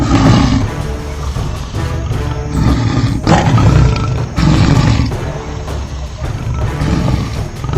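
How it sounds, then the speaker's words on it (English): A tiger's deep, loud roars sound as an effect in a Jungle Book audiobook, repeated in several heavy rumbling bursts with short gaps, close and powerful throughout. "Suddenly, a frightening roar filled the air."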